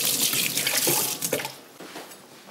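A kitchen tap runs briefly to dampen a knife while making raw cinnamon buns, a steady splashing rush of water that fades out after about a second and a half, with no talking.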